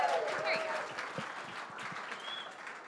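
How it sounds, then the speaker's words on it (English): A burst of audience applause, many hands clapping together, fading gradually over a few seconds, with a brief voice at the start. "Round of applause for Walker."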